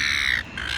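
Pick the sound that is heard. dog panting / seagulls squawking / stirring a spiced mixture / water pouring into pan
seagulls squawking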